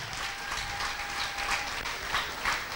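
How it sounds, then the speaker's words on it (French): Audience applause at a stand-up comedy one-man show in Katanga, a steady dense wash of clapping held at an even level throughout, with no voices rising above it. "Applaudissez, s'il vous plaît"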